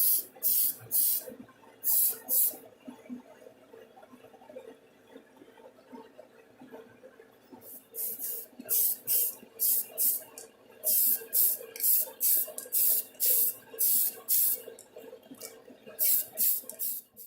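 Short bursts of hissing spray as ceramic coating is applied to a 1:12 scale Fujimi Nissan Skyline GTR R32 model car body, repeated pulses in uneven groups with quiet gaps between.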